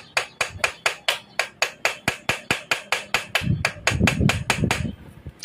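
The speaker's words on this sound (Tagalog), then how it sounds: "Ito ang pinaka the best na way para madaling makalas yan, oh. Paluin nyo muna siya. Yan, paluin nyo muna yon tornilyo." A hammer strikes a screw again and again to loosen it, working on a converted high-speed Rusi 175 motorcycle. About twenty sharp, evenly spaced metallic blows land close up, with a rougher rattling clatter joining the later hits.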